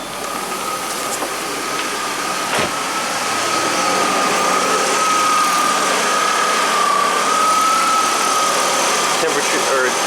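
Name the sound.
1991 Audi 200 engine running with A/C compressor cycling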